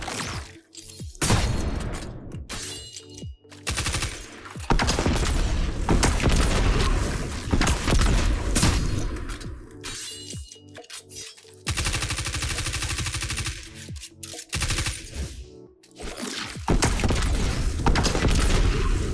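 Rapid SMG fire in the video game Destiny 2, loud dense bursts mixed with heavy booms and whooshing effects, broken by short pauses, with no talk.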